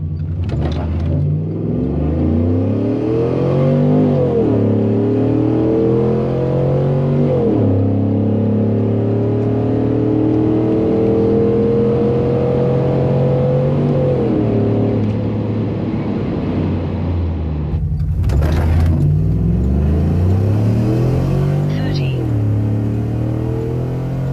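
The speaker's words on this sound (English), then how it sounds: "let's go ahead and make another run with the 6-liter and see where it lands" A Chevrolet Silverado swapped to a 6.0-liter V8 and running pump 93 fuel launches on a quarter-mile run, the engine revving up through several gear changes in rising and dropping sweeps, with a loud burst near the end.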